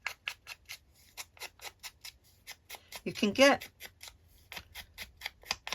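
Scissors snipping paper to make faux stamps, a steady run of short crisp cuts at close range, with a person talking briefly in the middle.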